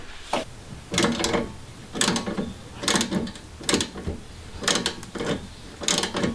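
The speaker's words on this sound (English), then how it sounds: "wrench on the back of that, access a little bit difficult, and then a socket on the front in order to loosen it" Close ratcheting clicks from a wrench and socket loosening the strut link nut on a BMW 1 Series front suspension, coming in repeated short bursts with brief pauses, with no talking.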